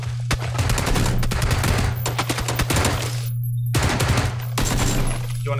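Rapid bursts of automatic gunfire rattle almost continuously in PlayerUnknown's Battlegrounds, loud and close, broken by a couple of short pauses between volleys.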